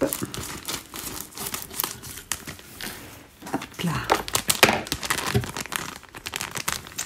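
A small gift pouch is cut open and its packaging crinkles and rustles in bursts, close and fairly loud, with short irregular crackles throughout.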